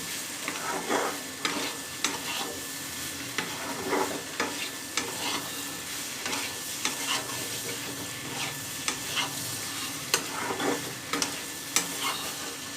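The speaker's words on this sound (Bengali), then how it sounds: "পেঁপেটাকে ভালো করে একটু কষাবে" Papaya sautéing in a pan, a continuous close sizzle with repeated scraping strokes of a spatula stirring at an uneven rhythm, no voices over it.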